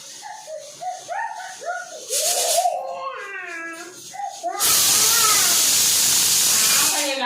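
A pressure cooker lets out a loud, sustained steam hiss for a couple of seconds, right after a child chatters close by.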